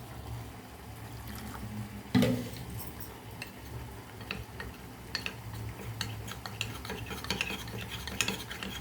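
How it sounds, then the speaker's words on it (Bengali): A spoon stirs cornflour slurry into red chili chutney for momos in a pan, giving soft scraping and faint clinks with one louder knock early on, steady and close with no talk. "এই 1 চামচ কর্নফ্লাওয়ার জল দিয়ে গুলে এর মধ্যে দিয়ে দেবো।"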